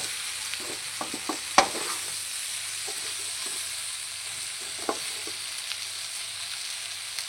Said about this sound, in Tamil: கத்திரிக்காய் பார்த்தீங்கன்னா நல்லா பாயில் ஆகிட்டு இருக்கு. நீங்களே பாருங்க, நல்லா ஃப்ரை ஆகிட்டு இருக்கு.